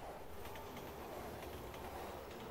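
Metro train rumbling steadily in the Resident Evil 6 video game, a continuous mechanical roar with faint rhythmic clatter, near and even in level throughout with no voices.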